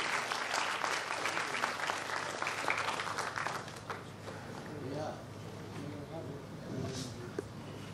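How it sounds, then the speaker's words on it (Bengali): An audience at a music-academy award ceremony gives loud, dense applause that later thins out as talking voices take over. "আর একবার জোরে করতালি দিয়ে আমরা রিয়াকে সম্মানিত করি।"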